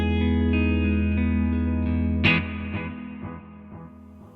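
Electric guitar through a Mesa Boogie Mark IIC+ amp simulator sustains a chord, then a sharp new strum rings out and fades with trailing stereo delay echoes and effects; no talking.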